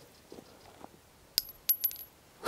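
An empty bullet casing drops onto hard ground outdoors, giving a couple of faint, bright metallic clinks and rattles over quiet background.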